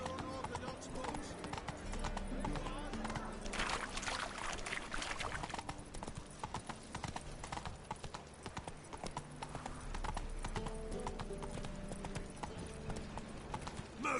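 The horse Roach gallops in The Witcher 3, its rapid clip-clopping hooves running in a steady, driving rhythm, close and prominent over ambient game sound, with voices speaking at points.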